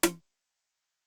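A single tom drum hit from a produced beat, one short punchy thump with a quick decay, heard alone.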